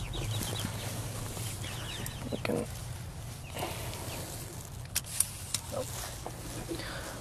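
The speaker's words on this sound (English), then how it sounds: "and we can let the chickens out." Chickens cluck and squawk softly in the background, scattered short calls amid low rumbling noise and occasional speech.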